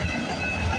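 CPKC freight train with auto rack cars passing close by, a steady loud rumble of rolling railcars with faint wheel squeal.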